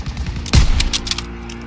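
A World War II machine gun fires a short burst in Call of Duty, a sharp close crack followed by rapid rattling shots over a steady low game hum.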